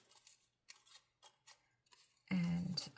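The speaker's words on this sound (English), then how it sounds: "So we're just going to cut this one down a little bit." Scissors snip through paper for a junk journal: a series of short, crisp cuts separated by brief pauses, ending in a louder, longer rustling slice close by.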